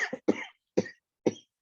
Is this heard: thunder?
no